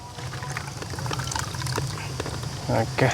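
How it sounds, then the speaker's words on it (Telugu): Leftover water is poured into a pot of mashed dal, giving a soft liquid splashing and trickle that grows toward the end, heard close under a person talking. "ఆ నీళ్ళు కూడా ఎత్తి దీంట్లో పోసేసుకుంటున్నాం"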